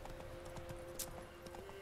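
Horse hooves trotting in Witcher 3, a soft, steady clip-clop rhythm under game ambience and a faint tonal drone, quiet and moderately close.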